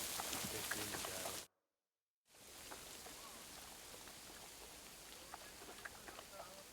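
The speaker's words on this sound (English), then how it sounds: "Ah, a little bit of rain never hurt anyone." In the medieval video game Kingdom Come Deliverance II, steady rain patters on surfaces with a soft, constant hiss and scattered drops, cutting out for a moment before resuming just as evenly.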